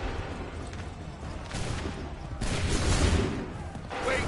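Musket volley in Assassin's Creed 3, heard as a crackling burst of massed fire around the middle and another near the end, loud over continuous battle noise and shouting.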